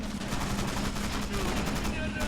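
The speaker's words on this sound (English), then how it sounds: "Those explosions are fantastic." Rapid gunfire and shell blasts from a World War II church battle in the video game Men of War: Assault, a dense, continuous barrage of shots and booms with no break.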